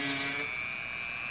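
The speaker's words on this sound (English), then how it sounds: "you can use a Dremel as well. Here's a little cutoff wheel I have, and then just go in there" A Dremel rotary tool with a small cutoff wheel cuts into foam, giving a steady high-pitched motor whine that is loudest at the start, eases off as the wheel bites, then rises again at the end.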